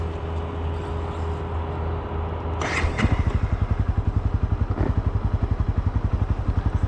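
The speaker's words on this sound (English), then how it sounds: "It's a lovely September morning, so what better than to take the CB300R out for a short ride." A Honda CB300R motorcycle idles with a low rumble, then starts up. A loud, rapid, even engine thump follows close by as the bike pulls away on a morning ride.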